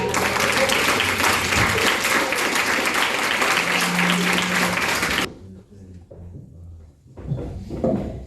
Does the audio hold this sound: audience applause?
yes